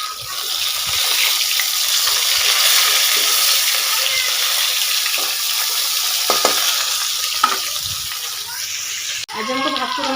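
Bhakur fish frying in a pan, a continuous close hiss and sizzle with occasional splashes and clatter, a voice breaking in briefly near the end.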